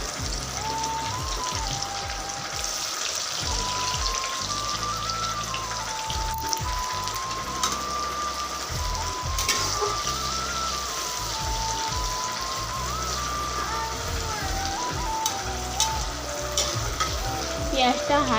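Whole cumin seeds and chopped onion frying in hot oil for a chicken dish, a continuous crackling sizzle with stirring scrapes and a faint whistling tone drifting in the background.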